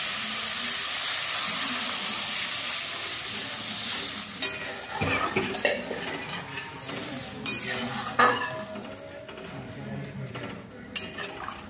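Water added to a hot cooking pan after salting, a loud burst of steamy sizzle and hiss that fades into quieter bubbling with scattered clinks of a spoon stirring against the pan.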